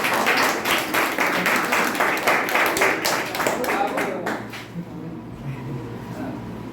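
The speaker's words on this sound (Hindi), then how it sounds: "ताली भी बजाते हैं" At a Teacher's Day gathering at an Indian arts academy in Hazaribag, an audience claps briskly for a teacher for about four seconds before the applause dies away into quieter room sound.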